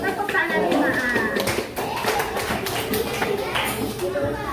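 A fifth-grade class of children claps hands together in a classroom. Many quick, sharp claps come in rhythm, with voices over them.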